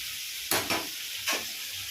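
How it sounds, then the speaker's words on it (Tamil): Brinjal rice ingredients sautéing in a dry pan with no oil, a steady sizzle broken by three short scraping stirs close up, no voices. "இப்போ இது நல்லா வதங்கட்டும்."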